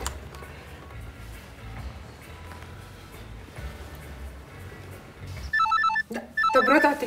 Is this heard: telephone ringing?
yes